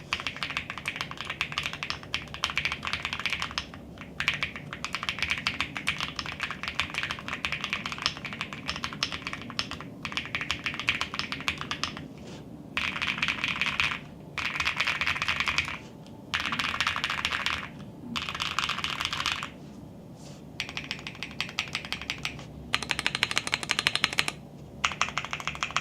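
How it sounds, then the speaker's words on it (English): Clacky keystrokes on a modded mechanical keyboard with swapped keycaps, typed in steady close-up bursts with short pauses between runs and no talking. "I think the keycaps really affect these sounds"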